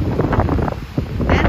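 Strong wind in rocky countryside in central Portugal buffets the microphone in loud, rumbling gusts, a constant roar with no voices.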